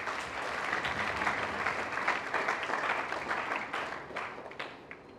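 A gathering at a religious perpetual profession ceremony applauds the Siguiri delegation from Guinea-Conakry, a full, steady round of crowd clapping that holds for a few seconds and then thins out toward the end.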